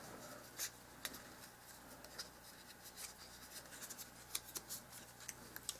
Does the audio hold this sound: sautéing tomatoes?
no